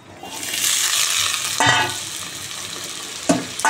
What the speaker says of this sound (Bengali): তেলটা গরম হয়ে গেছে, তেজপাতাটা দিয়ে দিলাম, দারচিনি, লবঙ্গ, এলাচ, তো আদা দিয়ে দিলাম।